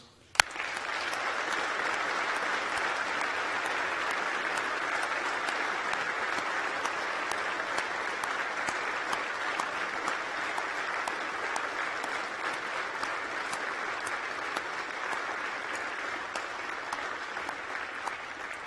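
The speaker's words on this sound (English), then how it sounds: "to applaud you, our new graduates" University of York graduation ceremony audience applauding the new graduates: sustained, even clapping from a large crowd that starts abruptly and continues steadily throughout, fairly distant and reverberant.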